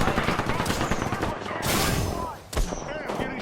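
Gunfire from the video game Apex Legends, dense bursts of shots crackling in rapid succession throughout, with a brief lull before more fire, loud and busy with game effects layered in.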